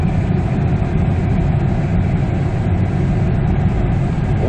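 Steady, loud cabin drone inside a 2002 Kia Carnival while driving, fitted with an emissions reduction device, blending a low engine hum with a constant air conditioner rush and no break.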